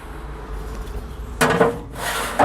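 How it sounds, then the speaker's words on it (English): Metal factory grill grates slide into place beneath the brackets of an RT-700 pellet grill, giving two short, close scraping rubs after a quiet stretch. "They just slide right underneath the brackets there."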